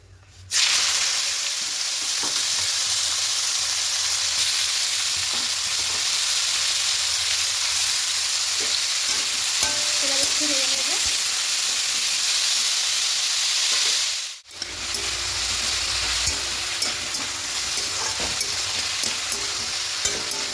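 Dried chillies and bottle gourd peels frying in a pan, a loud continuous sizzle with stirring scrapes throughout and a brief break partway through.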